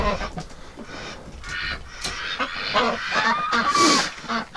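Several geese and ducks honk and quack nearby in an uneven, overlapping clamor, with a louder honk rising toward the end.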